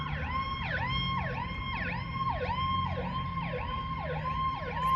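An ambulance siren passes outside, a steady cycling wail repeating every half second or so, moderately loud against low traffic rumble, with no voices.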